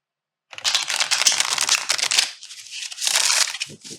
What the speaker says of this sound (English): I'm going to go ahead and shuffle the piles now.